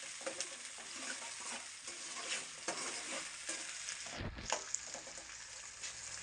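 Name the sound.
onions and green chillies frying in hot oil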